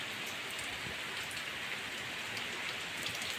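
Heavy rain pours steadily with wind, a dense unbroken hiss of drops on surfaces at constant loudness throughout.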